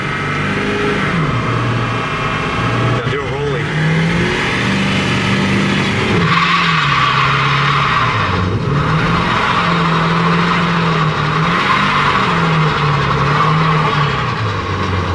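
A Ford F350 dually pickup roars through a sustained burnout, engine held high and wavering in pitch while the rear tires squeal and hiss continuously, loud and close throughout.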